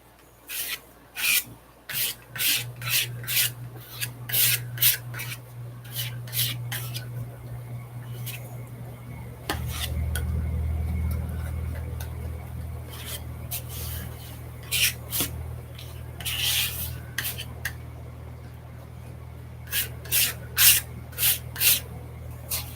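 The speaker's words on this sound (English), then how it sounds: "let's scrape this paint onto this one here." A palette knife scrapes paint across a postcard in repeated short rasping strokes, close and fairly loud, with a steady low hum and a stretch of rubbing in the middle.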